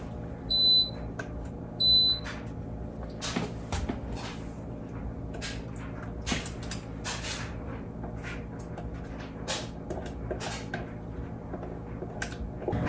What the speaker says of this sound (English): There's the beeping.